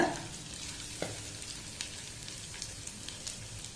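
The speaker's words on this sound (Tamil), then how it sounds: "இப்போ தேங்காய் வந்து லேசாக வறுத்துக்கோங்க" Coconut roasts lightly in ghee in a pan, giving a soft continuous sizzle with scattered faint stirring scrapes and crackles, close and quiet, with no voices.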